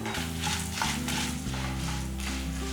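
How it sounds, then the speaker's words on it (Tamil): Peanuts and chana dal frying in hot oil in a pan for a drumstick leaf chutney, a steady close sizzle with soft stirring and no voices. "இது எல்லாமே எண்ணெயில் நல்லா வறுத்துடலாம்"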